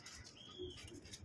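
Pigeons cooing softly in a loft, a faint low coo with a few light chirps and rustles, quiet and close with no talking.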